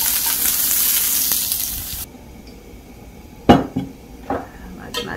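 Paprika and vegetables stir-fry in a pan with a steady sizzle that drops away midway, followed by a few sharp clinks and scrapes of a utensil against the pan.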